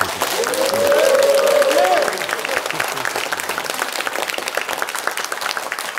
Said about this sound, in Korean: 응원의 박수 한번 주시겠습니까?